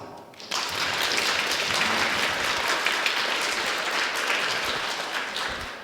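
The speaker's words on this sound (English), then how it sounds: "So I want to give everybody here a big round of applause." A crowd at a campaign event for Andrew Yang in Dallas bursts into steady, dense applause after a brief quiet moment, the clapping holding strong for several seconds before easing slightly.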